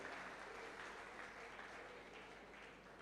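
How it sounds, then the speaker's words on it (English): Audience applause for the chief guest at a conference ceremony, a continuous, even patter of clapping heard faint and distant throughout. "Can we have a thundering round of applause for the chief guest of the ceremony?"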